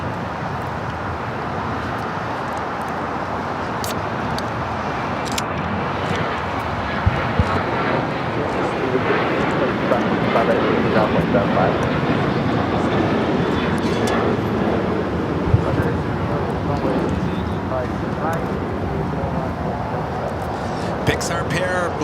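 A Boeing 737-800 airliner takes off from LAX, giving a sustained, broad jet roar that stays loud and steady for the whole stretch, with a few faint clicks along the way.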